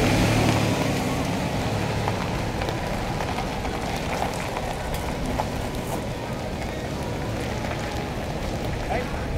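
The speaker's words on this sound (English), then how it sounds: "I'm just gonna drive around while we're" A car being driven around with a steady, continuous road and engine rumble that stays even and fairly loud throughout, with a faint hiss of tyres on the surface.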